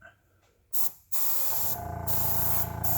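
Airbrush spraying alcohol ink onto a large canvas, a quiet start followed by a short hissing burst, a brief pause, then a loud continuous spray hiss running to the end.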